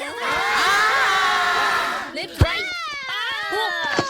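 A group of trainees at a training camp shouts loudly in unison for about two seconds, a sustained raucous roar, followed by a sharp clap-like hit and scattered voices and laughter afterward.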